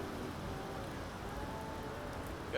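A light, steady rainfall in the submarine game UBOAT hisses quietly over a faint low drone, with a soft thump at the very end.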